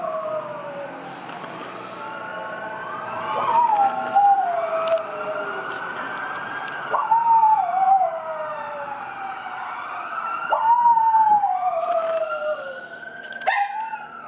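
A distant wailing siren rises and falls while a dog howls along in drawn-out, wavering cries, repeating several times.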